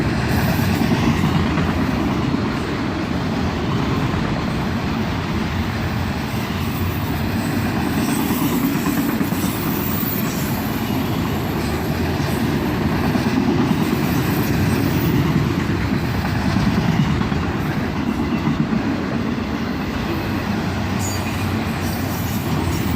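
A freight train hauling auto rack cars rolls past at close range in Carlisle, a loud continuous rumble with rattling, clanking wheels and intermittent squeals that holds steady throughout, with no voices.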